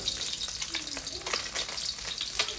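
White fish from the Mun river deep-frying in hot oil until crispy, a steady close crackling sizzle with dense popping and occasional stirring scrapes, continuous throughout with no talk.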